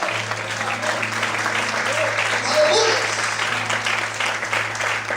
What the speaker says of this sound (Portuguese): Aleluia, aplauda o Senhor essa noite